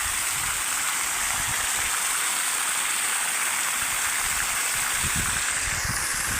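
Well water is pumped by a running motor and gushes out in a steady, loud, continuous rush of splashing water with a low rumble underneath.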